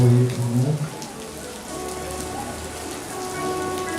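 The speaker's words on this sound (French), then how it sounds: "Merci Seigneur pour la pluie que vous voyez pour nous." Rain falls steadily outdoors, a dense continuous patter of drops hitting surfaces, with a brief low tonal sound at the start and no speech.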